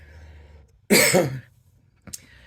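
A single harsh cough close by, followed by a brief small throat sound after a pause.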